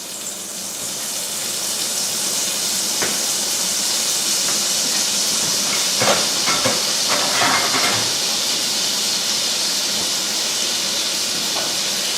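About half a tablespoon of butter sizzles in hot oil in a pan, a loud, steady broadband hiss with a few sharp pops and crackles.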